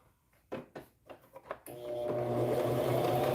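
Sewing machine stitching tiny preemie shorts: a few short clicks and handling sounds, then a steady close whirring run of stitching that continues to the end, no talking.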